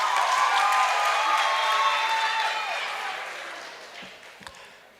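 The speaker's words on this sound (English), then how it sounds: "please give yourselves a round of applause." Audience applause at a law week town hall meeting in Lagos, a broad crowd clapping that starts full and gradually thins and fades out, with a few scattered claps at the end.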